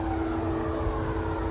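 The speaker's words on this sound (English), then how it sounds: "Every Gen 2 or every lift that has that motor sound is called an airplane" Steady droning hum of an Otis Gen2 machine-room-less traction lift motor with an airplane-like tone, a constant close whir running unbroken, no talk.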